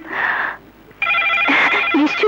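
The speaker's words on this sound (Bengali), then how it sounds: "নিশ্চয়ই সাগর ফোন করেছে।" A telephone rings indoors, two bursts of loud electronic ringing separated by a short pause, no talk.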